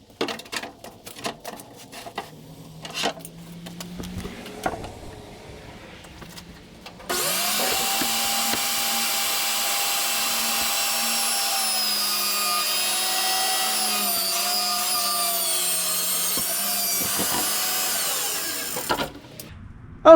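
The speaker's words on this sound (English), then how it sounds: "Let me cut two 20-inch long pieces here" A power saw starts with a few knocks and handling sounds, then whines loudly and steadily for about twelve seconds while cutting scrap wood into shelf pieces, then winds down. The saw is close, and nobody talks.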